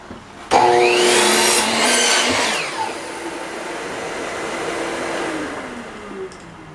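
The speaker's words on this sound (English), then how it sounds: "This is a very risky cut, cutting it in a small blade." Power saw with a small blade cutting a small wooden board for a chickadee or wren birdhouse: a loud, close whine that surges as the blade bites the wood, then settles into a steady spinning drone.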